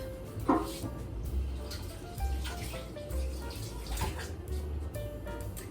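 Kitchen tap running while something is rinsed off during potato salad prep, a continuous splashing water stream with a few drips and clatters, close by and without speech.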